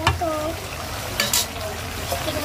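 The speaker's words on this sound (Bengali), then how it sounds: "এখন এখানে মুরগির মাংসটা রান্না হচ্ছে। এখন চুলা অনেক জোরে জ্বলছে" Chicken meat frying over a high, hard-burning stove flame gives a continuous loud sizzle, broken by occasional scraping stirs and brief bursts of spatter.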